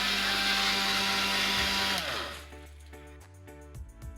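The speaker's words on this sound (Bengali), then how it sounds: "এরপর রোদে গরম করা মশলাগুলো মিক্সিতে পেস্ট করা হয়।" An electric kitchen mixer grinder whirs loudly and steadily, grinding sun-warmed mustard, cumin and pepper into paste for mango pickle, then spins down and stops, leaving faint clinks and handling noises.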